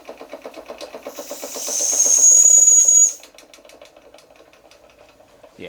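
An American Weeden 43 model steam engine chuffs rhythmically while its small whistle shrieks for about a second and a half, a loud steady high tone that fades as the steam runs out, leaving the quieter engine beat.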